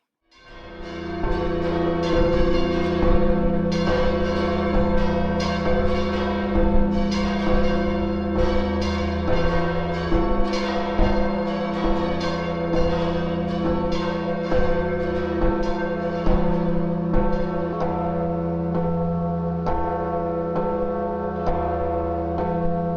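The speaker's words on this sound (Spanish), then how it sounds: "Está dándole a la campana." A church bell at Pamplona Cathedral is struck over and over in a steady rhythm, loud and ringing with long overlapping resonance, alone without voices.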